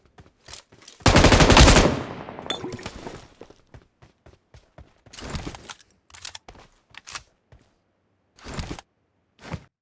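Machine gun fire in a battle royale video game, including an M249, a loud sustained burst near the start, then shorter rapid volleys and scattered single shots with quiet gaps between.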